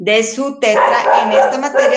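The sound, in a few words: dog barking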